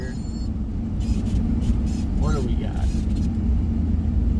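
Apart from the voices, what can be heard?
traffic jam on Phoenix road, car rumble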